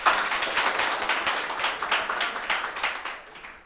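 Students at the opening of a new offline arts coaching batch clap for themselves and their faculty, a dense, lively roomful of hands with a quick pulsing rhythm, close and sustained throughout.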